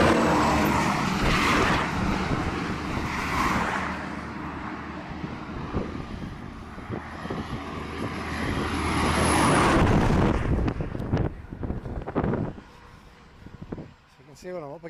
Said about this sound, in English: So let me wait until these cars come past now.